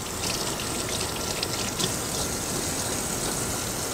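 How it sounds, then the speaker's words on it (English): Hog head meat is rinsed under running tap water, giving a steady, even rush and splatter of water for several seconds at moderate volume, with no voices. "A quick rinse is all that's really necessary."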